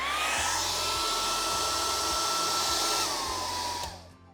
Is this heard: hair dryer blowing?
yes